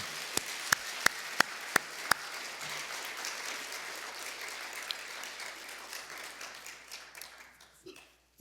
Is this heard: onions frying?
no